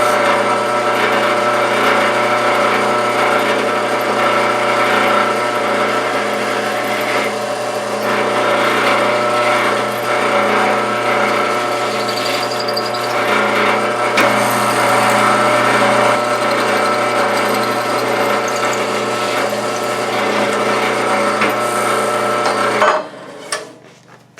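A power drill bores holes in wood for a firewood carrier, a loud continuous motor whir held steady for over twenty seconds before cutting off abruptly, with a faint clatter after it stops.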